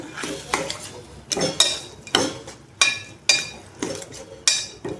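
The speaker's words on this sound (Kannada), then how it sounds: "ಆಲೂಗಡ್ಡೆ ಎಲ್ಲ ಹಾಕಿದೆ ಈಗ ಚೆಂದಾಗಿ ಮಿಕ್ಸ್ ಮಾಡ್ಕೊಳ್ಳೋಣ" Potatoes being stirred into potato fried rice in a pan, with rhythmic scraping and clinking of a spoon against the pan about twice a second over a low sizzle.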